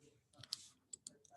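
Computer mouse clicks while filling dates in an Excel spreadsheet, a few faint, sharp, close clicks spaced irregularly over quiet room tone.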